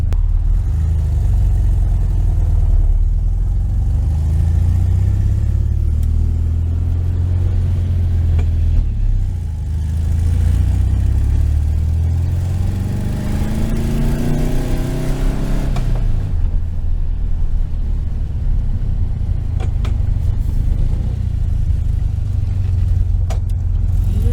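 A 1973 VW Super Beetle engine fitted with a Dellorto FRD 34B carburetor idles with a loud low rumble, then rises in a long rev around the middle before settling back to a steady idle, close by and without talk.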